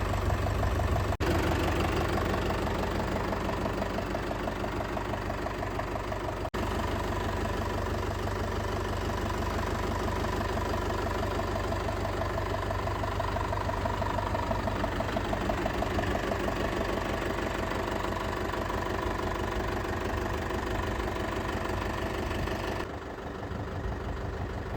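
A 2023 Eicher 5660 tractor idles close by with a steady, loud diesel rumble and a faint rhythmic knock that holds even throughout, dipping briefly near the end, with no voices.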